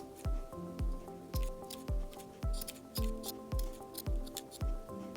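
Scissors snip yarn on a knitted hat in a steady run of about ten close, crisp cuts at an even pace, each with a sharp attack and a short ringing tail.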